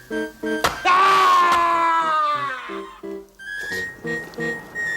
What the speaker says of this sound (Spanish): Qué alarido tan extraño